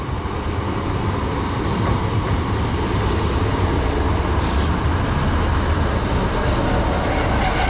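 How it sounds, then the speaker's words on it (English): A Northern passenger train, unit 156421 on the Barrow-in-Furness to Carlisle service, rolls into a station platform with a loud, steady rumble and brief higher hiss of brakes partway through. "arriving in now is the 1907 Northern service from Barrow-in-Furness to Carlisle"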